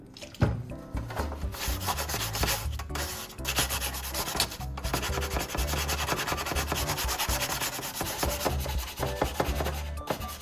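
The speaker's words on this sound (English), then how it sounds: "Just a light rub with the sandpaper removed the remaining rust." Steady, continuous rasping of sandpaper rubbed back and forth over a rusty metal saw blade, loud and close, with uneven strokes filling the whole stretch.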